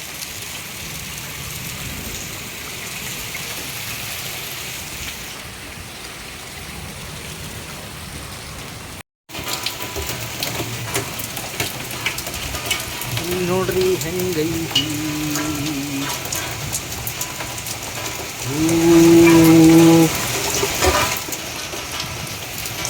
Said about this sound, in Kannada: ಫುಲ್ಲು ಆನಿಕಲ್ಲು ಮಳೆ ಆಯಿತು ನಮ್ಮ ಊರಲ್ಲಿ